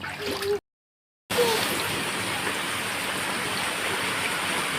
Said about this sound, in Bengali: আবার পানি হচ্ছে, দেখছো খুব জোরেই হচ্ছে